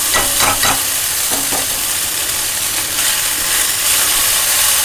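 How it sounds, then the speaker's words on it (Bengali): Semolina vermicelli is stirred in a hot pan, loud and close, with continuous scraping and rustling plus a few quick clicking strokes early on. "এবার আমি দিয়ে দিচ্ছি ভার্মিসেলি।"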